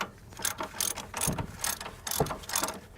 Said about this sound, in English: Put the nut back on. We're just gonna snug it.